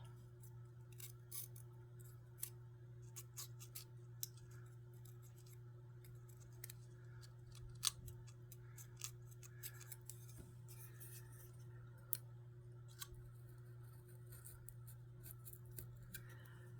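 A worn blade slicing through paper in a craft session, a long series of sharp, scattered cutting snips and clicks, close and fairly quiet over a steady low hum, no talking.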